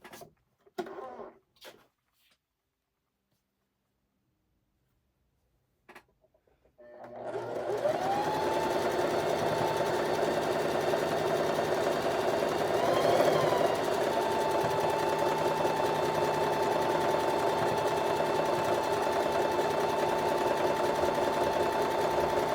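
A sewing machine stitches together a quilt block, with a few brief clicks and a pause before a long, steady, close motor hum that runs evenly to the end.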